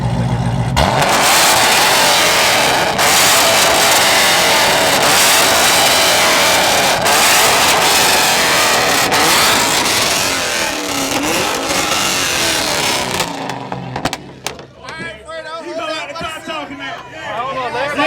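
A car engine revving hard and continuously at a car show, a loud sustained roar with a crowd murmuring, then easing off near the end as voices become clearer.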